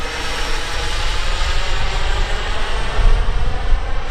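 An RC turbine jet model aircraft, a Sebart, makes an overshoot pass at a little over half throttle, its steady roaring whine loud and constant throughout, with no voices.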